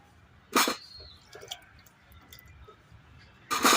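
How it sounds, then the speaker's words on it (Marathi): Sweet potatoes being washed in water, with two loud splashing bursts at the start and end and small drips and squishes between them, close by and with no talk. "त्यासाठी रताई धुवून घेतोय"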